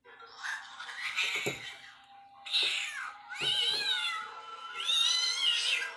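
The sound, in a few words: cat's death wails replayed by a doll in Child's Play 2019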